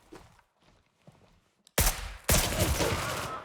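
After a few faint footsteps, sudden loud automatic gunfire in Gray Zone Warfare breaks out close by, with a second burst quickly following and continuing in a heavy sustained volley.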